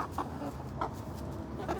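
Farm chickens clucking as they feed, several birds giving repeated short clucks close by over a low bustle of scratching, with no talk.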